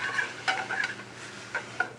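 A pan deglazed with verjus, a green grape juice, sizzles steadily with scraping and stirring clicks, close and fairly quiet, with a few sharper spatters.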